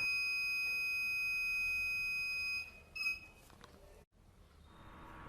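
A data logger's electronic buzzer, set off by a light sensor, sounds as a steady high-pitched tone for a few seconds. It then cuts off and is followed by faint clicks and a brief quiet gap.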